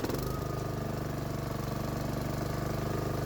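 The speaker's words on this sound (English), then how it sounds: "The engine is running smoothly." A Honda HRX217 lawn mower engine runs steadily at close range, a loud, even mechanical drone with a fast pulsing rhythm and no voices.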